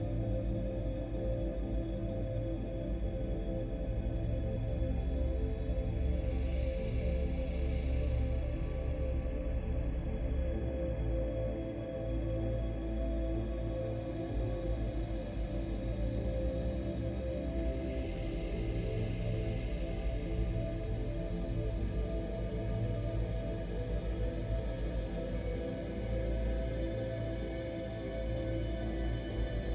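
A continuous, eerie droning sound effect marking the end of time in the video game Outer Wilds, a steady layered hum with faint high shimmering tones drifting in and out, sustained and even throughout with no talking.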